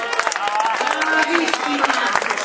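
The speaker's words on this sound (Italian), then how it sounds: "un grosso applauso" A crowd claps loudly as the first female finisher arrives at a race in San Giuseppe di Comacchio, brisk scattered applause mixed with an announcer's voice and nearby crowd chatter.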